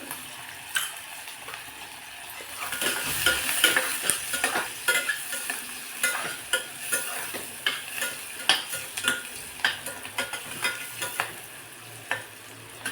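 Chopped onion with a pinch of turmeric sautés in a pan for Khandeshi matki dal. A spatula scrapes and stirs in a quick, repeated rhythm over a continuous close sizzle.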